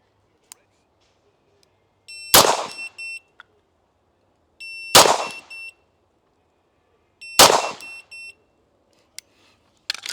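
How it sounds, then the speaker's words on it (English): Three pistol gunshots at shooting practice crack loudly and sharply at steady intervals of about two and a half seconds, each followed by a short high electronic beep from a shot timer. "each and every single one of those shots should be recorded"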